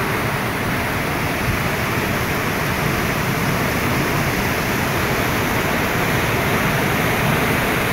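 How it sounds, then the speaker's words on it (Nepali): The Suligad river flows through forest in Dolpa, near a wooden bridge, with a loud, dense, unbroken rushing roar that stays constant from start to finish. "सुलीगढ नदी,"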